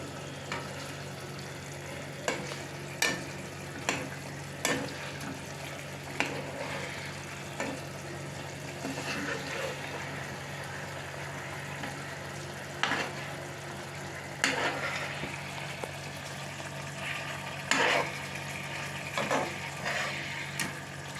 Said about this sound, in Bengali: দেখুন খুব সুন্দর ফুটছে বেগুনগুলো, মাছগুলো।